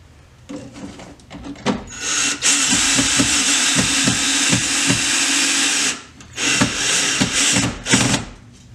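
A power drill drives a screw in two long, steady whirring runs, loud and close, with short clicks and taps before and between them.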